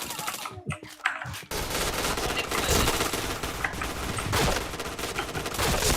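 Automatic gunfire in the shooting video game Point Blank: after a brief sparse start, a dense, continuous rattle of rapid shots runs loud and unbroken to the end.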